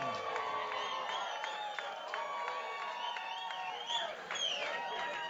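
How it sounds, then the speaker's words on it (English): A packed arena crowd before a heavyweight MMA bout keeps up a steady roar with whoops and shouts, loud and continuous throughout, with an announcer's voice carrying over it. "this crowd is electric right now"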